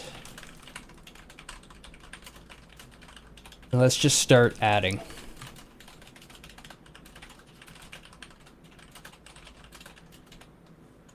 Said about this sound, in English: Typing like a madman.